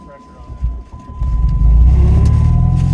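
A homemade snow contraption called the Bromobile v2 runs its engine, a low rumble that swells and holds steady and loud after a quieter start, with a thin steady whine above it.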